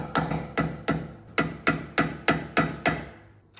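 Eight sharp, evenly spaced metallic taps ring out as a hammer drives a tiny chisel against a staked axle nut on a Honda Fit front hub, each strike close and crisp with a short decaying ring, no voices.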